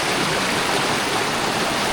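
Waterfall at Candies Falls, a steady close roar of falling water over large rocks, loud and continuous broadband rush with no voices.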